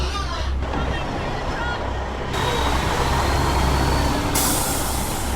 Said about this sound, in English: This is the third truck we've seen, and we've been here for less than 10 minutes.